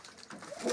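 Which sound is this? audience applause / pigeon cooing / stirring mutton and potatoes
pigeon cooing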